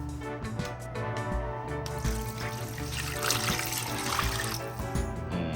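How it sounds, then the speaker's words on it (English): Water trickles and splashes into a bowl of seasoning for oven-roasted jerk pork, a soft continuous pouring sound with small drips, quiet and close. "So now I'm just gonna add about 2 cups of water to my seasoning"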